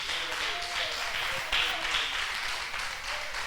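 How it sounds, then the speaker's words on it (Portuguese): A standing church congregation applauds in praise, a broad continuous patter of clapping mixed with voices calling out and murmuring, moderately loud and steady, rising briefly midway. "Vamos aplaudir mais uma vez o nome do nosso Deus."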